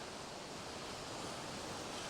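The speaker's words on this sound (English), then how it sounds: "Splishing and a splashing. We're right down by the water again." Steady broadband wash of surf breaking and splashing close by at the water's edge on the Cornish coast, a continuous even roar with no voices.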